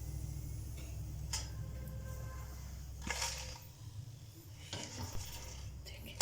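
Homemade potato chips fry in a pan of oil, a steady soft sizzle broken by a few scraping stirs and light clinks of the utensil against the pan.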